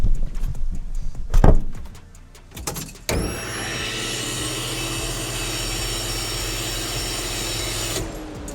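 Electric fuel pumps in a junkyard turbo LS-swapped Foxbody Mustang prime as the key turns on, a steady high whine with a constant hum running for about five seconds before cutting off, after some brief handling clatter.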